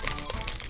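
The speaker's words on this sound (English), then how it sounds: "and then crumple it and form it around your" Aluminum foil crumpled by hand while being shaped around a jar lid for a craft, a short close burst of crisp crackling bursts.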